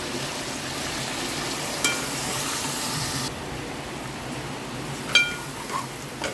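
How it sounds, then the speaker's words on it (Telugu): Tomato sizzles and fries in oil with ginger garlic paste, giving a steady close hiss and crackle with a few brief clinks and stirring knocks, no talking. "ఇప్పుడు టమాటా వేస్తున్నాను."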